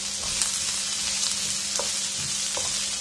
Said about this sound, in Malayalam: ഇതിപ്പോ ഒന്ന് കുക്കായി വരും ഈ ക്യാപ്സിക്കം.